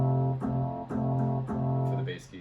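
Yamaha P121 digital piano with an added bass layer plays a few sustained low chords in sequence, each new strike blooming warmly over the last, close and moderately loud with no talking.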